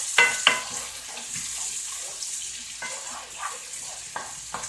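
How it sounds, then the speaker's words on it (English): Bacon bits and onions frying in a pan while being stirred, giving a steady broadband sizzle with a couple of sharp utensil scrapes near the start and light stirring noises throughout. "we're just going to push those bacon bits and onions right back in there. Okay, stir that around."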